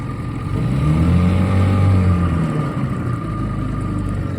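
A 1971 Mercury Thunderbolt 7.5hp outboard motor runs loud and close, a throaty steady engine drone that rises and settles in pitch, with no voices.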